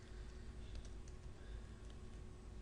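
Faint, steady keystrokes of someone typing code on a computer keyboard, soft irregular clicks over a low background hum.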